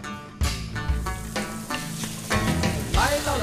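Jianbing guozi, the Tianjin street breakfast crepe, frying on a hot griddle, a steady close sizzle with scraping and spreading strokes building in bursts over a few seconds, alone without talk.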